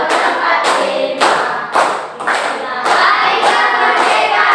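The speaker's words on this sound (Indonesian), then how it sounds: "Ya, sambil tepuk tangan ya." A group of people clap their hands in time while singing in a classroom, with about eight loud, close bursts of clapping in a steady rhythm.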